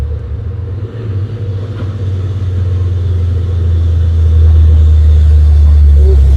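A Hino Ranger truck engine revs and labors climbing a hill in heavy rain, a steady low rumble that grows louder and heavier toward the end, with no talk over it.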